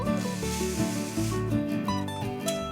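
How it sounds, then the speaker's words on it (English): Coarse sea salt crystals shaken about in a large sieve to sort them into grades, giving a steady close rasping, rubbing rattle that runs without pause, with faint background tones beneath. "Using a large sieve, literally shake it about for a bit, and that separates the crystals into the 2 grades"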